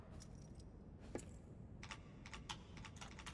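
Keyboard keys are tapped to enter a password in the video game Kingdom Hearts 2: Final Mix: a quick run of light, irregular clicks over a quiet background with no talking.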